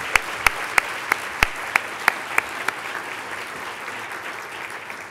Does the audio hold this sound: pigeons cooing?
no